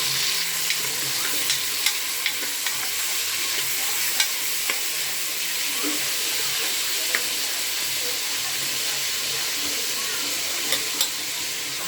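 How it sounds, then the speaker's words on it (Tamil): Onion and tomato sauté in a hot pan while making chicken, giving a steady, loud sizzle with occasional stirring clicks and scrapes throughout. "இப்போ வெங்காயம் தக்காளி சேர்த்துடலாம். நல்லா வதக்கி விட்டுடலாம்."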